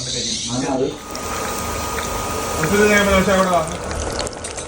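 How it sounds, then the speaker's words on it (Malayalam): Egg bajji fries in a pan of hot coconut oil, a soft, steady bubbling hiss running under a person's nearby talking throughout. "ഇതിൽ മുക്കിയിട്ടാണ് നമ്മളെ മുട്ട പൊരിച്ച് കൊണ്ടെടുക്കും."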